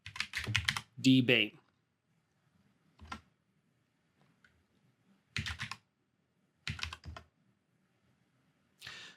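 Someone types a sudo useradd command on a computer keyboard in several short, close bursts of clicking keystrokes separated by pauses.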